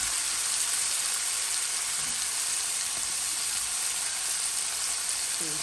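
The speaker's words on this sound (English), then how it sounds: "So we're gonna cook this for about 2 to 3 minutes, just until the veggies cook down." Vegetables and beans fry in a pan with a constant bright, hissing sizzle, steady and fairly close, with no speech and only faint stirring touches underneath.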